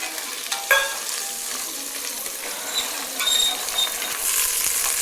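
Beans and green peas stir-fry in a hot pan for foxtail millet pulao, with a continuous close sizzle, scraping stirs and occasional clanks of the utensil.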